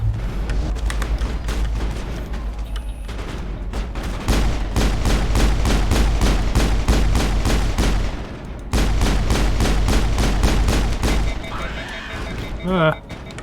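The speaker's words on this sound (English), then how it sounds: "Time to shoot you guys up." Gunfire in the video game Mass Effect during the Eden Prime mission, as rapid, loud bursts of repeated shots in two long volleys with brief pauses, ending in a sharper burst.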